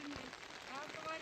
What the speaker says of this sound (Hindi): और लगी हुई बारिश,